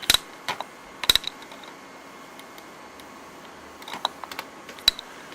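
Sparse keystrokes on a computer keyboard, a few quick clustered taps near the start, around the one-second mark and again toward the end, with quiet gaps between; close and fairly soft, no talking.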